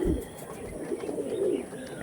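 Domestic pigeons coo softly close by in a low, throaty murmur lasting a couple of seconds, with faint background noise and no talk.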